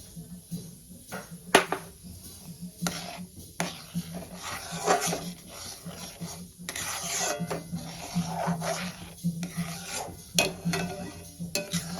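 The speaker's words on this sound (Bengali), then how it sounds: "এবার আস্তে আস্তে ঘন হয়ে আসবে, এরকম বারে বারে খুন্তি দিয়ে নেড়ে দিতে হবে।" A spatula scrapes and stirs milk as it thickens in a pan for a bread-based sweet dessert, giving a steady run of close, soft scraping and occasional metallic knocks against the pan.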